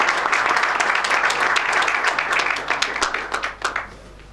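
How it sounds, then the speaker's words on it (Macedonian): Audience applause at the close of a business presentation in Ohrid, a dense burst of many hands clapping that thins into a few scattered claps and fades out. "сакам да си дадете еден аплауз, бидејќи бевте отворени да научите нешто ново"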